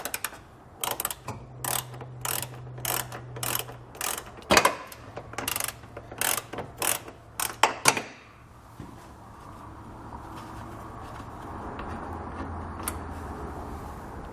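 A ratchet fitted with an 18mm socket clicks in quick bursts of repeated strokes while removing tow hook bolts on a 2012 Nissan Rogue, followed by a few seconds of quiet handling noise and faint background hum.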